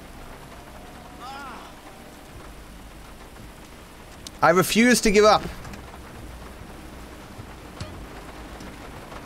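Steady rain in GTA 5 hisses as a soft, continuous wash throughout, with someone talking briefly over it near the middle and a few faint tonal game sounds.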